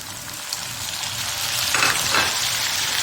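Mutton karahi sizzles steadily in hot oil with tomatoes just added, a dense even crackle that swells a little louder partway through, with stirring scrapes and no talking.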